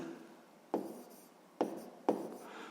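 Pen strokes on paper while numbers are written, three short, crisp scratches about half a second to a second apart, close and quiet in a still room with no talking.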